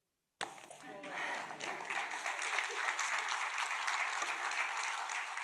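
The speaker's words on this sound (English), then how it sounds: "thank you for clapping" An audience breaks into sustained applause after a talk. It starts abruptly after a moment of silence, then holds as a thick, steady wash of many hands clapping that fills the room.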